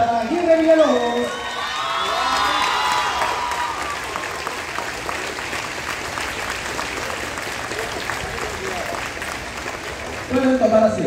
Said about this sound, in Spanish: Un muy fuerte aplauso para Aguirre Villalobos.